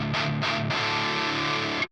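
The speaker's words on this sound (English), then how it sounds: "So now we're going to go back to the crunchy kind of distortion sound" A crunchy, distorted electric guitar played through a JHS pedal metal pedalboard strikes a few chords, then lets one ring out loud and sustained before it cuts off abruptly.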